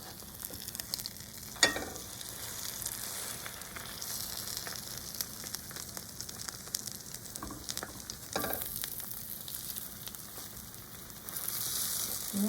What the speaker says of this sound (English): little bit of butter in here and put my French toast in the pan